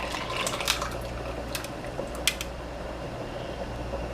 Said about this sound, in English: what I'm going to do is I'm just going to pour my content inside my measuring cup